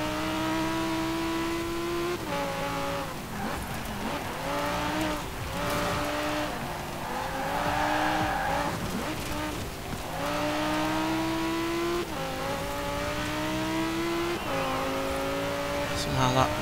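An Audi mid-engine race car in the video game Forza Horizon 4 revs hard and shifts through the gears, its engine note repeatedly climbing and dropping, with tyre squeal at times and a voice talking over it.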